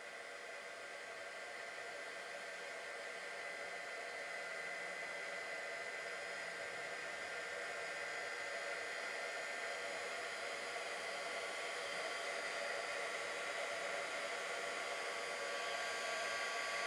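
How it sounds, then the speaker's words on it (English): Heat gun running steadily for the whole stretch, a loud, even blowing roar with no pauses, used to dry a metal jewelry piece; no talking. "And dry it the rest of the way with the heat gun."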